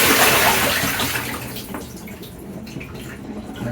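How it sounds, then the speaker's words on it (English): Running water rinsing a cyanotype print over a sink, a steady rushing splash that starts loud and eases slightly, close by with nobody talking. "I think I'm just gonna rinse it a bit more"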